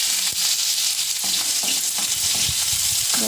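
Chopped onion and boiled broccoli sizzling in hot oil with five-spice seeds in a wok, a steady loud hiss and crackle with several stirring scrapes and clinks spread across the stretch, no talking.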